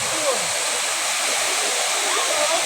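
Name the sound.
Daranak waterfall in Rizal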